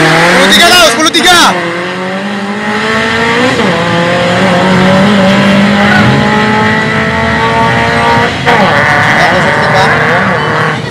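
Modified Toyota Avanza drag race car engine revving hard and loud close by, its pitch climbing in repeated sweeps and dropping between gear changes, with people talking over it.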